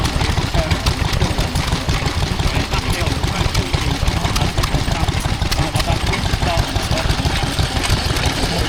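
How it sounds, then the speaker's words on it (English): Lister D stationary engine powering a power hacksaw at an outdoor transport festival, a loud, steady, fast-chugging run that holds constant throughout. "That's a power hacksaw that's powered by a Lister D."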